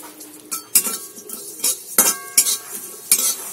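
Coriander and cumin seeds frying in a pan, stirred with a metal spoon that scrapes and clinks against the pan in quick, close, uneven strokes over a light sizzle.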